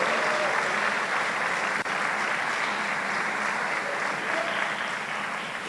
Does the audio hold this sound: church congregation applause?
yes